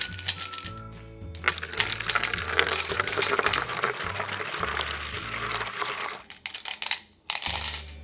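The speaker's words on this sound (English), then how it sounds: "Let's pour this into a cup." Thick strawberry banana raspberry smoothie pours and gurgles into a cup for several seconds, with a few clinks and splashes before the pouring tapers off and stops.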